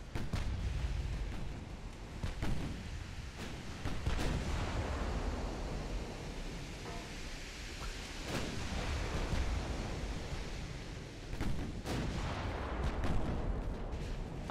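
Battleship naval guns firing in a warship combat game, a series of heavy booming salvos over a constant roar of sea and engine noise, several sharp blasts spaced irregularly and no talk.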